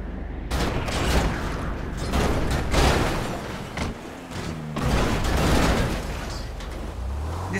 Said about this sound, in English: This car is not stopping even after hitting so many trees and is going down.